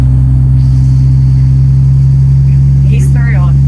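An antique car at a car show runs with a loud, steady low engine drone and strong humming tone. A voice briefly cuts in near the end.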